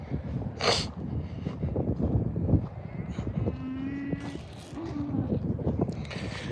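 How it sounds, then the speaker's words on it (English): Longhorn cattle mooing on a farm near a feed wagon, two fairly close, drawn-out low moos in the middle, with outdoor rustle and some talk around them. "there's actually a few cows still out here on the feed buggy, on the feed wagon"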